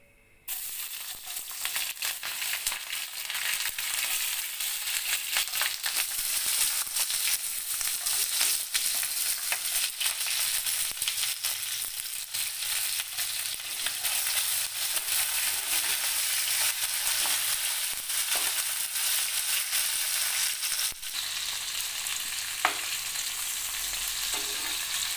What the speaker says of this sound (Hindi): ये जो कैप्सिकम और प्याज हमने रखा था इसको थोड़ा हाफ फ्राई करेंगे